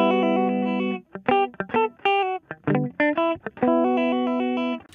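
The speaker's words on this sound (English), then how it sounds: "Let's show you without the plugin on the guitar." Clean, undistorted guitar played dry with no effects plugin, sustained chords at the start and end framing a run of short, choppy plucked notes, loud and alone without talk.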